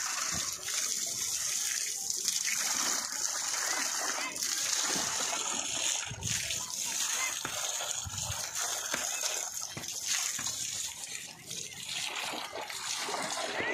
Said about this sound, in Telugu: ఎంత వాటర్ కొడితే అంత మంచిది ఫ్రెండ్స్. వాటర్ క్యూరింగ్ అనేది చాలా మంచిది.